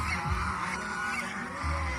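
Geese honking on a farm where ganders and geese are kept for breeding, a steady cluster of nasal calls over about two seconds, close and fairly loud, with no talk.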